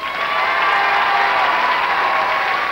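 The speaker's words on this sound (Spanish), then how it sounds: "Aplauso para el señor Huerta" A studio audience on a Saturday variety TV show breaks into loud, steady applause with cheering, a continuous wash of clapping throughout.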